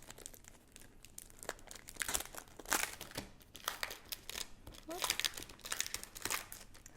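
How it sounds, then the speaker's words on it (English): Plastic wrapping around a pack of Lawn Fawn wood grain cardstock crinkles and crackles in bursts as it is opened, close and fairly quiet, with a few brief rustles between. "Sorry for all the crinkle noises"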